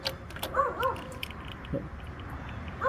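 A dog barks and whines a few times at a moderate distance outdoors near a farm tractor repair, short yaps scattered over a quiet background.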